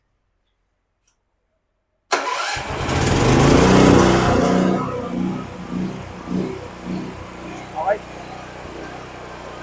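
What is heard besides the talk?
Blackstone 9.5 kW push-button generator running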